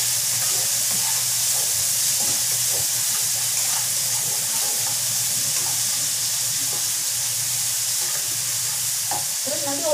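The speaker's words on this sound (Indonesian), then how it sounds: "Tumis bumbunya sampai harum." Spice paste being sautéed in a hot pan, a loud constant sizzle and hiss with occasional stirring scrapes, close and unbroken.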